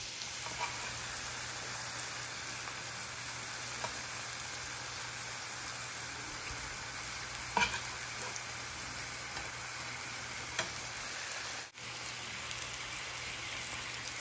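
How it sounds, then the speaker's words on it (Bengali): Pre-fried boal catfish pieces added to a small frying pan of fried onion and garlic crackle in a continuous, moderate hiss, with a few light clicks scattered through it. "আগে থেকে ভেজে রাখা বোয়াল মাছগুলো এক একে দিয়ে দিব"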